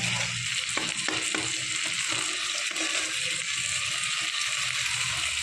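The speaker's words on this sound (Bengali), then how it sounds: "এবার মশলাটা ভালোভাবে মুড়োর সাথে মিশিয়ে নেবে।" Spices sizzle and fry with a fish head in a hot pan while a spatula stirs and scrapes through them, a steady close crackle broken by a few sharp clicks early on, with no talking.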